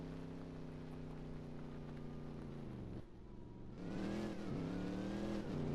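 Car engine droning steadily at a motorsports park in a Roblox game, a sustained hum that drops briefly and then revs up again with rising pitch, close and moderately loud.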